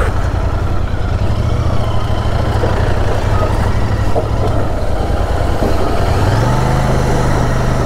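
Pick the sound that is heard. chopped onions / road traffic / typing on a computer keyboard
road traffic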